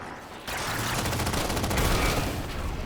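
Sustained covering gunfire in the video game Halo 4 starts abruptly after a short lull and continues as a loud, dense rattle of rapid shots to the end.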